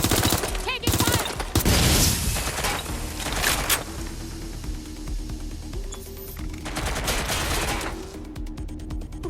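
Bursts of gunfire in the video game Watch Dogs: Legion, loud volleys and rapid shots at the start and again near the end, with quieter stretches of game noise between them.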